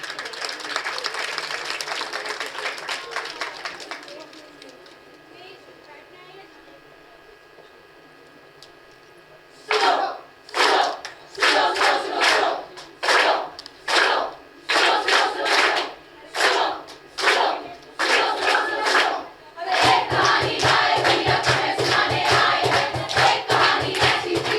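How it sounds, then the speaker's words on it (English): An audience at a cultural gathering, Sanskritik Samagam 2025, applauds loudly. The applause fades out within a few seconds and gives way to near silence, followed later by a series of loud, evenly spaced rhythmic bursts. "Please welcome Shino and group with a big round of applause."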